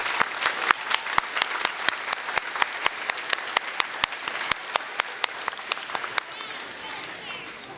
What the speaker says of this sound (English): could you please give yourselves a round of applause and our deep thanks for the parents